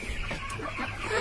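Live chickens on a chicken farm clucking in short, close bursts, loud and fairly continuous over a brief stretch with no talking.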